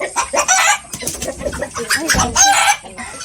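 Several silkie chickens cluck and squawk in busy, overlapping bursts, close by on a poultry farm, with a loud crow-like call near the end.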